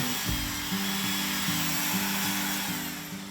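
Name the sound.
die grinder with grinding burr carving wood sculpture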